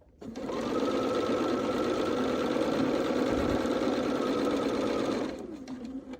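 A sewing machine stitches quilt patches in one steady run of about five seconds, a loud close mechanical whir that starts abruptly and winds down to a stop, with no talk.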